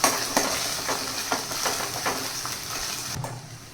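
Onion masala, garam masala and chilli powder fry in a pan for shev bhaji, a soft sizzle under rhythmic scraping strokes of a spoon stirring about twice a second, close and steady.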